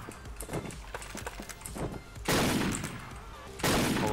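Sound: gunfire in the video game Wolfteam

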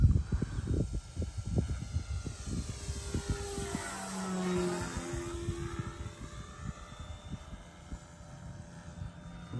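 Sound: model plane propeller engine

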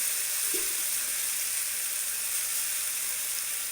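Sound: stirring masala noodles frying in a pan

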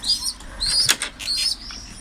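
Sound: birds flapping wings, flying from a terrace

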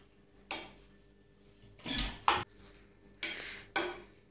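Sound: mixing salad with kinnow orange in a bowl

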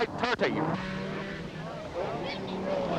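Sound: Porsche rally car driving

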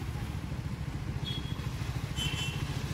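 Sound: Triumph Speed 400 motorcycle riding in heavy traffic

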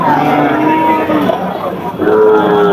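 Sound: cattle mooing

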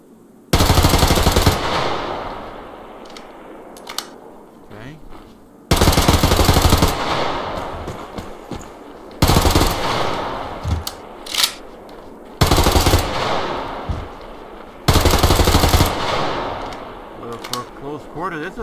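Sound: shotgun firing in the Survarium video game

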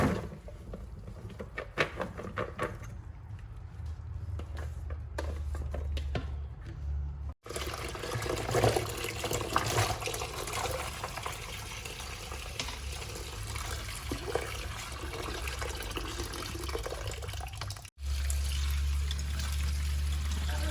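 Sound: rinsing soaked pumpkin pieces in clean water

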